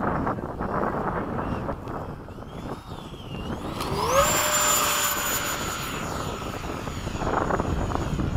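A Freewing 80mm MiG-21 model electric ducted-fan jet flying an afternoon touch-and-go at a flying field, its whining fan sweeping up in pitch as it passes fairly close, under steady wind noise.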